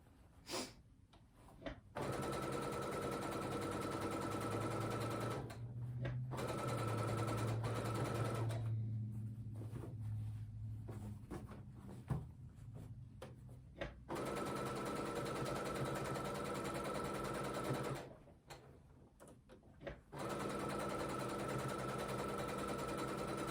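A sewing machine stitches fabric, its motor whirring loudly in long continuous bursts separated by short pauses, with no talking over it.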